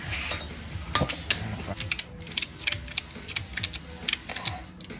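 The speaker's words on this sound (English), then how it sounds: "this isn't probably the best ratchet strap for it, but I might be able to make it work" Ratchet strap being cranked tight during a Rough Country leveling kit suspension install, a rapid series of close, loud mechanical clicks in uneven bursts.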